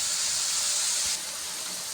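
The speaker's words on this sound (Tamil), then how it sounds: "நல்லா வதங்கட்டும்." Vegetables sauté in a hot pan for mushroom fried rice, giving a steady, close hiss and sizzle that eases slightly partway through, with no talking.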